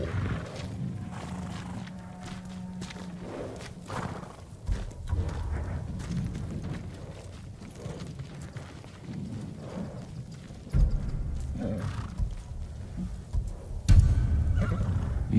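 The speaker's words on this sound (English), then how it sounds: "They're samurai horses." Samurai horses in the Ghost of Tsushima video game neighing and whinnying, with hoof clops and stable movement in between, several calls spread across the scene at moderate distance.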